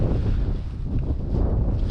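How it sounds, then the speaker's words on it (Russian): Strong wind roars and buffets the microphone in a steady, low rumble, with no voices, in freezing weather on the frozen Pechora River during ice fishing. "Поднялся сильный ветер, морозит."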